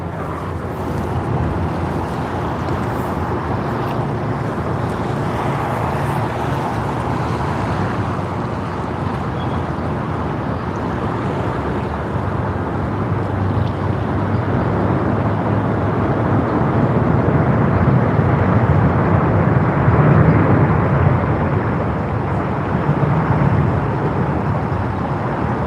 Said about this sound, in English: Air India AI302 from Delhi, India, on its Boeing 7878 Dreamliner